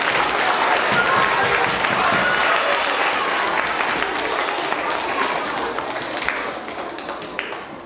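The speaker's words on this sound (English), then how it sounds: "let's give one more round of applause for all of our student presenters" Children and teachers at a school assembly applaud student presenters, a loud sustained crowd clapping that fades slightly toward the end.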